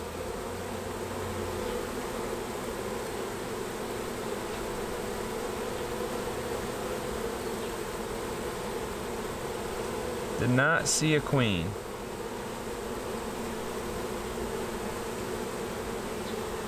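A dense, steady hum of a honeybee swarm, including drones, buzzing continuously at close range after being shaken, with a brief voice and handling noise partway through.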